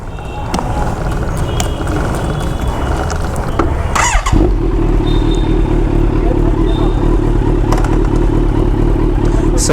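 A motorcycle engine idles in first gear with a steady low drone during chain cleaning, preceded by clattering handling noises and a brief burst around the start of the steady run.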